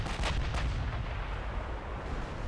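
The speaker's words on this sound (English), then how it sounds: "I'm absorbing a lot of fire." Heavy naval gunfire strikes a warship in a naval combat video game, a couple of sharp booming impacts at the start followed by a rumbling low wash of battle noise.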